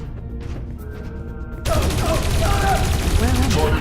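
Soldiers' gunfire in the video game Dreamfall Chapters: a dense burst of rapid shots breaks out halfway through and keeps going loud and continuous, after a quieter stretch of ambient game sound with faint voices.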